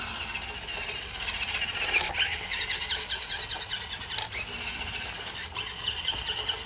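A small 1/24-scale FTX Outback Mini 3 electric RC rock crawler drives steadily, giving a continuous high whirring motor and gear whine with brief surges and a few clicks, close and alone.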